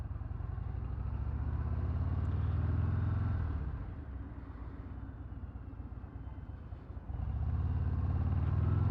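A 2024 Harley-Davidson Breakout rumbles with a deep, loping V-twin engine, dipping to a lower throb midway and then swelling again as the motorcycle pulls away; no one speaks.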